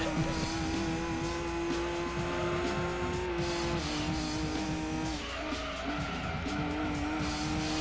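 A racing car roars at a steady high pitch in Gran Turismo 2, a PlayStation racing game, with its engine note shifting slightly and tires squealing continuously underneath.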